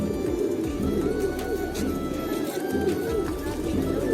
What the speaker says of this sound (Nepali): दाना खाइरहेछ चराहरूले परेवा।